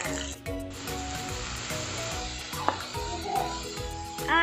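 Chicken pieces frying in a hot pan while vegetable curry is being made, giving a steady, close, broadband sizzle with light crackle, a brief stirring clatter near the middle and a louder burst of hiss at the end.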